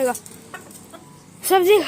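An Aseel rooster on a rooftop gives a short burst of loud, close clucking, with a brief earlier call and quiet gaps between.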